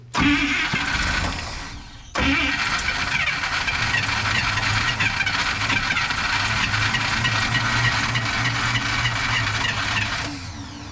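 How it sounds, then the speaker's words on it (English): A 1955 Buick Super engine cranks over steadily on a starter for about ten seconds, loud and close, with a brief pause near the start, running on a bottle fuel feed and never catching. "So I'm gonna crank it off my seltzer water bottle again."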